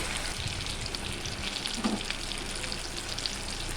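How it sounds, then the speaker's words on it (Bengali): Chicken pieces for methi chicken fry in hot oil, a close, steady crackling sizzle with faint stirring, continuous and even throughout. "মাংসটা যখন তেল ছেড়ে আসবে"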